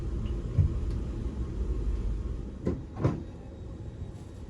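A low, steady rumble from inside a Swiss Intercity 1 train running on rails toward Zurich Airport. A couple of soft clunks rise out of the rolling noise.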